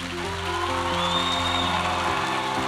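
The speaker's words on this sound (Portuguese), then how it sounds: "E esse aplauso, meninos, é para vocês" A church congregation applauds its media volunteers, a steady wash of clapping from a large indoor crowd with a faint background hum and some voices underneath.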